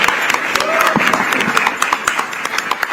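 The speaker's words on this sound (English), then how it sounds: "big round of applause for our jury member Ramesh Sippy" Audience at an awards ceremony gives a round of applause, dense clapping from many hands with light crowd murmur and a voice briefly heard over it.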